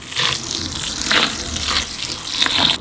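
Water runs into a tub while setting up an egg box, a steady splashing hiss with brighter surges that rise and fall throughout, close by and with no voices.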